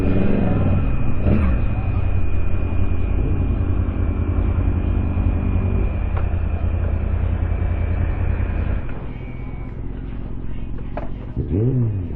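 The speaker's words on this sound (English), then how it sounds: "Yo, C8, I think that's called. That Corvette." A Chevrolet Corvette C8 at a car show gives off a loud, steady engine drone that holds for several seconds before easing off. Voices are faintly heard near the end.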